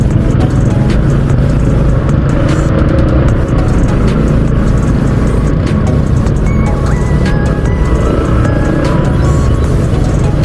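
Heavy road traffic of cars and motorcycles, a loud, dense, continuous engine roar with passing vehicles blending into a constant wash of noise and no clear speech.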